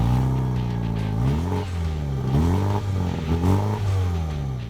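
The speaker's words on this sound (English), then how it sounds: "And finally, there's the exhaust. It makes it one of the best sounding hatchbacks out there" A 2019 Mini John Cooper Works hatchback's exhaust revs loudly and close, rising and falling through several throttle blips with a raspy mid-range engine note and no talk.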